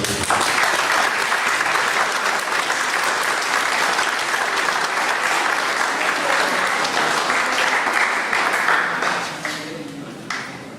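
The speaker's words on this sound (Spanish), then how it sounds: "Felicitamos al doctor Jaime Víctor Celada Bartra por su excelente disertación de esta noche con un fuerte y merecido aplauso." Strong, steady applause from an audience at an evening lecture held by a bar association, loud and continuous before tapering off near the end.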